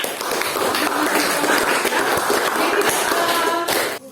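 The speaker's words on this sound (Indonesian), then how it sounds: "Aplaus dulu deh" An audience claps together in a sustained burst of dense, even applause that lasts about four seconds and fades at the end.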